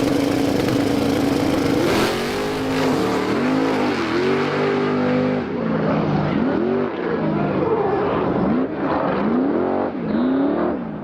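Drag racing cars roar down the strip in a pass at a night street-style racing event, loud continuous engine revving with rising and falling pitch sweeps as gears change, close and dominant throughout.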